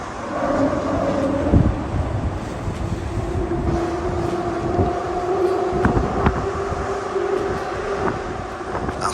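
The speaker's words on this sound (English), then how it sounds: "Tyre noise off that bridge, by the way, that you can hear there" Steady low rumble of traffic tyres rolling over a bridge, with a continuous droning hum and occasional louder thumps throughout.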